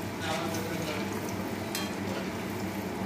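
Sweet potato jalebi frying in hot oil, a steady broadband sizzle with light stirring noises running throughout, close and continuous.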